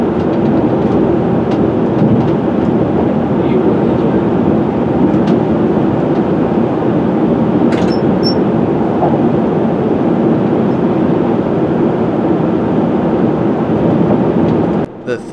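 A London Underground Metropolitan line train runs along the track past Rickmansworth and over the Grand Union Canal, giving a continuous loud rumble with faint rail clicks and brief squeaks.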